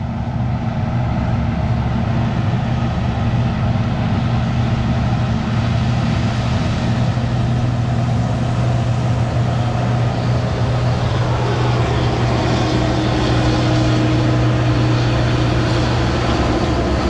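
Engine of a 7088 tractor running during a corn harvest, a steady, loud, low diesel drone with a constant throb that carries on unchanged throughout.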